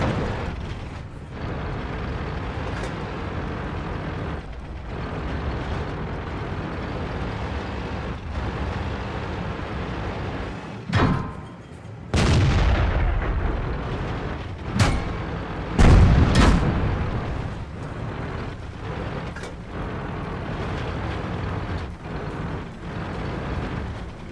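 Tank cannon fire in a video game featuring a Type 59 tank, heavy booms with an enemy tank destroyed, several loud blasts near the middle and later over a constant rumbling engine drone.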